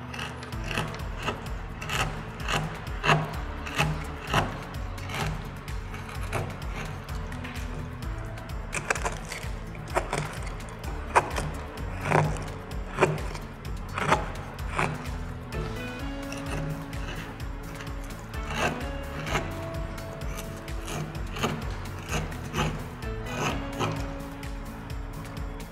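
A small hollow is carved by hand into a piece, with repeated dry scraping and rasping strokes in an uneven rhythm, close and fairly quiet, with no talking.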